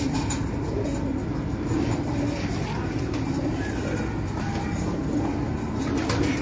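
Lal Pari teddy pigeons cooing softly among a steady, noisy outdoor background, the low coos faint and repeated throughout.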